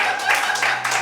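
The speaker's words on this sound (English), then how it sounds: "I need that clap that you are clapping" Audience applause in a hall, a steady wash of many hands clapping throughout the short stretch with no break.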